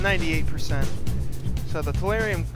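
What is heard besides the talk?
No everyday noise stands out behind the speech.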